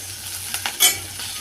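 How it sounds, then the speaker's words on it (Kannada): Beans, carrots and capsicum sizzle steadily in a hot pan, with a few scraping stirs and one sharper clatter of the spoon against the metal. No voices. "ಸೊ ಈ ರೀತಿ ಫ್ರೈ ಆಗ್ತಾಯಿದೆ"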